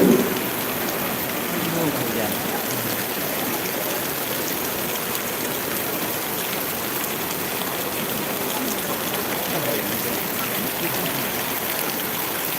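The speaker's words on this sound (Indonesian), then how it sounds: "Hujan nih, teman-teman, hujan ini." Heavy rain pours steadily on an outdoor peresean arena in Narmada, a dense, loud, unbroken hiss of drops on surfaces throughout.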